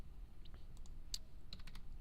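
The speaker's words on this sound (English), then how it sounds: "if you hit tab, you can actually type in the dimensions that you would like." Soft, quick keystrokes on a computer keyboard, a handful of light taps and clicks in an uneven rhythm, quiet and close in a hushed room as dimensions are typed in.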